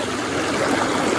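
Shallow riffle in a flood-damaged brook trout creek, water rushing steadily over the stones with an even, close hiss and no breaks.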